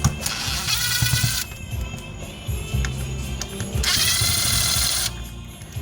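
A power drill whirs in two loud bursts, one at the start and one midway, removing the screws that hold a Kicker ZX350.2 amplifier's circuit board to its chassis, with small metallic handling noises between.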